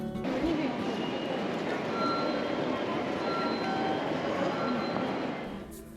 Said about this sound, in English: This is the limited express train between Tokyo and Izuku Shimoda.